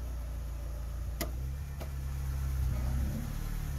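A Honda Jazz (Fit), just repaired after a faulty transmission speed sensor, drives slowly, with a low steady engine hum and two brief clicks near the start.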